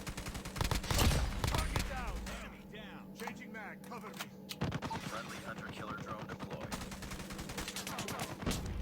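Rapid automatic fire from an M4LMG light machine gun in Call of Duty Mobile, a dense run of game gunshots with in-game effects underneath, continuing through most of the stretch with a brief lull, close and loud.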